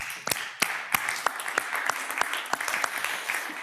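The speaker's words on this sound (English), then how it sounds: "the applause goes to the Venture Challenge Innovations, Hanneke and Anja." Scattered applause at a Dutch life sciences event, with distinct individual claps coming from a small audience rather than a dense ovation. The clapping continues steadily, with no talking over it.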